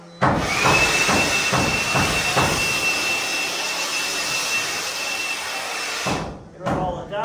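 Compressed air blown across a freshly sanded log wall of a cabin to clear the dust, a loud, continuous roaring hiss close by that cuts off near the end, with brief knocks at the start.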